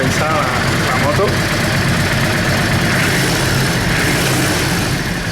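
A Yamaha Drag Star 650 motorcycle idles roughly and unevenly with its intake out of balance, a steady loud engine rumble filling the whole stretch at close range with no pauses.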